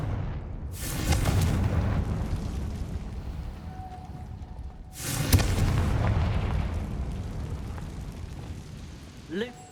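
Confringo fire spell from Hogwarts Legacy, heard as two heavy booming blasts a few seconds apart over a rumbling game soundscape, each burst loud and broadband before fading into a low roar.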